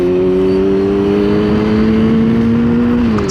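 A BMW Z4 drives past on an evening road, heard from an R6 motorcycle. A loud, steady engine hum stays close and then dips in pitch right at the end.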